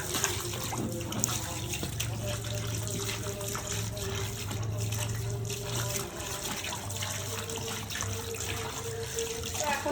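A tap runs steadily while raw broiler chicken meat is washed in a sink, a continuous, fairly quiet splash of water with small shifts as the pieces are handled and rinsed.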